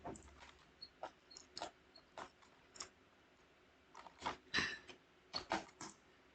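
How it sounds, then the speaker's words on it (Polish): A dog in the Minecraft video game, heard as a scatter of faint, short pattering and ticking sounds with irregular gaps, quiet and a little distant, with no speech. "No przecież to jest piesek nasz."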